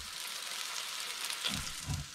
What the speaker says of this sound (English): my meatballs are frying.